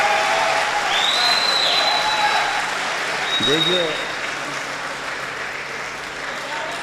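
Audience at an Urdu mushaira in Dubai breaking into loud sustained applause, with shouts and a whistle over the clapping, fading slowly; a voice speaks briefly over it.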